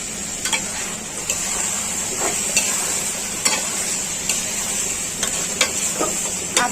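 Salted hilsa fish and potatoes fry in oil with a steady close sizzle, punctuated by a series of sharp clinks and scrapes of a utensil against the pan at irregular intervals.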